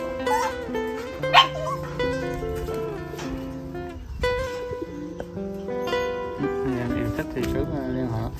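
A litter of one-month-old black brindle Phu Quoc puppies whimpers, yips and barks in high, thin cries, close by and continuous under someone talking throughout.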